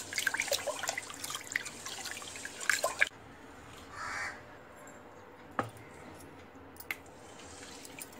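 Soaked idli rice is swished and rinsed in water, giving a few seconds of close, rustling splashes before it goes quieter, with crows cawing in the background.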